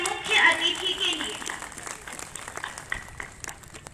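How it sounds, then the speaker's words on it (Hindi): Schoolchildren and guests applaud the chief guest at a 75th Independence Day celebration at a school. The clapping is scattered and moderately loud, with a voice and other voices heard early on before the hands carry on more thinly. "जोरदार तालियां आज के हमारे मुख्य अतिथि के लिए।"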